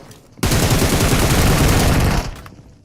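Dense automatic gunfire in a shooter video game, enemies pre-firing inside an apartment building: a loud, continuous burst of rapid shots lasting about two seconds, alone without talk, cutting off sharply.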